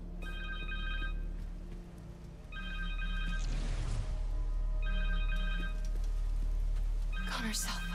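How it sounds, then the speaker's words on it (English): A cell phone rings in Marvel's Spider-Man 2, three repeated electronic ring bursts in a steady pattern, with a rustling whoosh between them and background game ambience. "Connor's cell phone."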